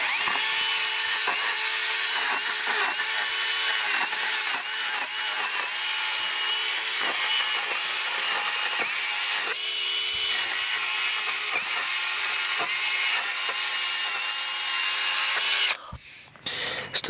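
Skookum power pruning tool cutting green tree branches up to 65mm thick, a loud, steady high-pitched motor whine with repeated cutting bursts, running close and continuous before stopping abruptly near the end.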